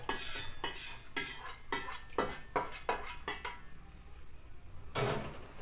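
A metal spoon stirs and clanks in a pan while greens are tempered in a home kitchen, giving a quick run of close, sharp scraping strokes, a pause, then one more stroke.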